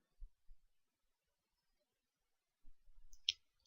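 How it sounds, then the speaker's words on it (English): A computer mouse clicks once, sharp and close, in a quiet room, with faint low desk thumps just before it. "So I'll click on that."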